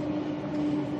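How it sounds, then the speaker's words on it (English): A suburban train passing on the track near Brisbane, heard from on board as a steady, close rumble with a faint tonal hum running throughout. "Suburban train, obviously heading for Caboolture, as we are."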